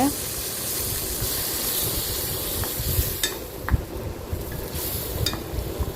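Ground paste for a stingray fish curry being stirred and fried in a pan: a continuous hiss and sizzle with scraping stirs and occasional clinks, under intermittent talking.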